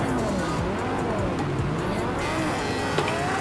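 Race car engines in Project Cars 2 scream continuously at high revs, a dense, loud, rising and falling whine of multiple cars racing closely, with faint speech beneath.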